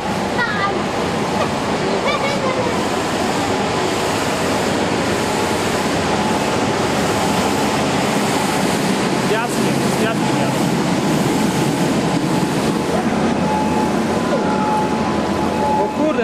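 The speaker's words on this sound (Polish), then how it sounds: "Taka fala idzie." A flood wave from the 1997 flood rushes in with a loud, continuous roar of surging water that fills the whole stretch without a break.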